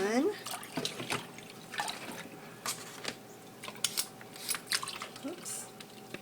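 Juice drips and trickles from drained pineapple and oranges as a series of soft, irregular splashes and drops close by, fairly quiet, with a faint background hum.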